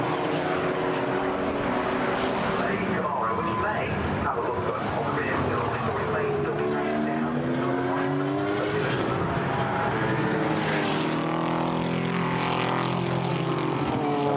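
GT4 race cars, including a lightweight Camaro, lapping Brands Hatch in qualifying: loud engines rise and fall in sweeping pitch as cars pass, one after another, while a commentator talks over them throughout.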